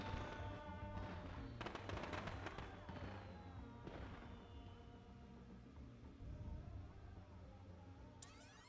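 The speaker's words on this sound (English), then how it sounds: "Craftworld is rocking out and shooting off some fireworks." Fireworks burst in the LittleBigPlanet 3 Craftworld celebration, a dense run of cracking pops and booms at the start that thins into a sustained festive rumble under game music.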